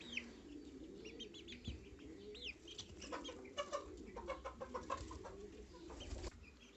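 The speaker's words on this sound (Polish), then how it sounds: "I wszystkie to są kury." Several chickens cluck and murmur in bursts, with quieter chirps scattered through, fairly close and without any talking.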